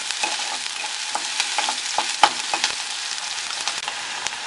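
Onions sauté in hot oil after mustard seeds have spluttered, a steady close sizzle and crackle with occasional soft spatula scrapes and small pops.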